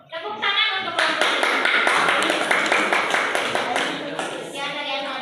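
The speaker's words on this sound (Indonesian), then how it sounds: "Tepuk tangan untuk kelompok" Students in a classroom clap together for a presenting group, a burst of dense, lively applause that starts after a brief pause and carries on steadily before tapering slightly.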